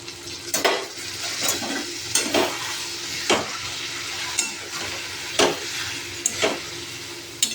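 Ground poppy seed paste goes into nearly cooked potatoes and ridge gourd in a pan, a soft simmering sizzle punctuated by regular scraping stirs and metallic clinks, close by.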